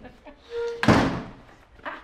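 A door is shut indoors with a single loud slam partway through, a short thud that fades quickly, while people speak in the room before and after it.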